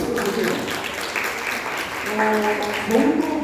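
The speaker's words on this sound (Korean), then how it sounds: "칭찬 박수 시작!" Seminar audience applauding in praise, a steady wash of clapping lasting throughout, with a voice talking over it and louder near the end.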